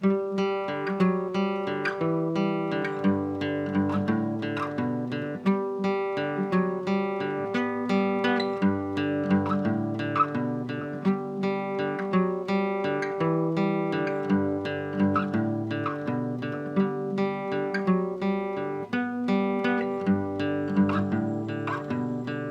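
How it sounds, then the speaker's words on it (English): Acoustic guitar plays the bridge of a song, with steady picked notes ringing continuously and evenly for over twenty seconds, no voice over it. "let me go through the whole bridge so far"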